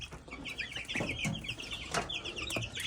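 Young Tribe Red chickens with their guard goose, being moved out of the brooder on a farm, cheep and cluck in a busy, overlapping chorus of short high calls, close by and continuous, with occasional soft wing flutters.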